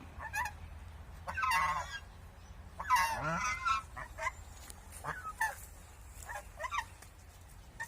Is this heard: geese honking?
yes